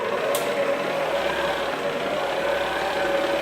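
A KitchenAid stand mixer whips cream soap with a steady, close motor whir and a faint whine that holds evenly throughout.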